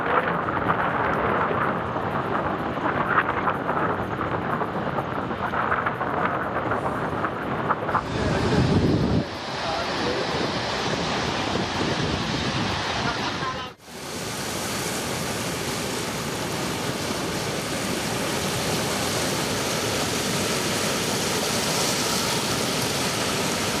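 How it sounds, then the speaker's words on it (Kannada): Water pours from thirty dam crest gates into the river, a loud, continuous roaring rush that is heavily buffeted by wind on the microphone, with abrupt shifts in level between takes. "30 ಕ್ರಸ್ಟ್ ಗೇಟ್ಗಳ ಮೂಲಕ ನದಿಗೆ ನೀರು ಹರಿಸಲಾಗ್ತಾ ಇದ್ದು"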